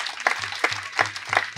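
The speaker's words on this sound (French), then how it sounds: "Merci de faire du bruit pour recevoir, avec un torrent d'applaudissements, le directeur général de la Komiba" Rhythmic clapping greets a director general at an inauguration ceremony, sharp bursts landing at a steady beat about three times a second over a low hum.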